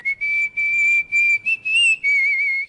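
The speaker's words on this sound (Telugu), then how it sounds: "ఏ విజిల్ అంత బాగుందా?" Close, clear human whistling of a short tune in several sustained, bright bursts with brief gaps and no talking, from a Telugu comedy film scene.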